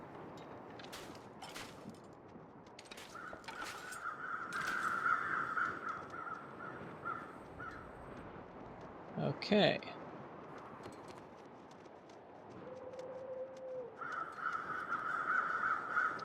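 Several crows caw repeatedly in bursts against a quiet outdoor ambience in the video game The Long Dark, with scattered clicks and a soft spoken word partway through.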